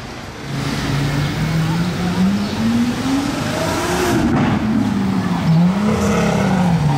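A Mercedes 65 AMG V12 biturbo engine revs with its exhaust valves open, a steady deep drone rising and falling in pitch across several seconds, close and loud, with someone talking over it.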